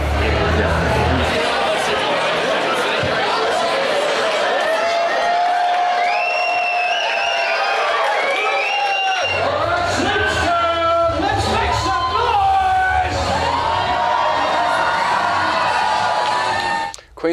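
A rowdy wrestling crowd at a live show cheers, whoops and shouts continuously, with loud babble and high excited yells rising and falling throughout, close and dense.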